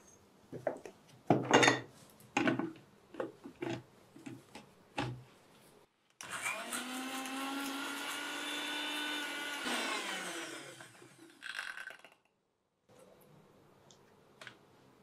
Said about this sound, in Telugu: కలబంద మిక్సీ చేద్దాము